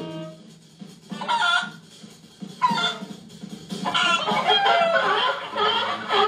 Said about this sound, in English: The voice actors are chickens?